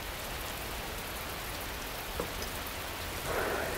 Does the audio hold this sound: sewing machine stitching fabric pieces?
no